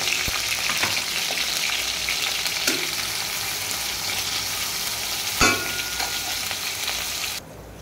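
Onions and chilies frying in hot oil for a ridge gourd, prawn and taro dish give a steady, close sizzle throughout, with a couple of brief clinks from a utensil before the frying sound suddenly drops away at the end.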